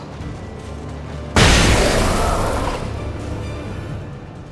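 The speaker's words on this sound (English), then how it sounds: "Flashbang." A flashbang goes off in the video game Alan Wake: a sudden loud broadband blast over a low game ambience, with a bright burst that slowly decays into a lingering hiss.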